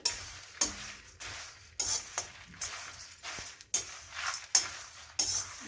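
Red chillies being dry-roasted in a pan for rasam powder, with repeated scraping and stirring strokes against the pan at an uneven rhythm, fairly close and without talk.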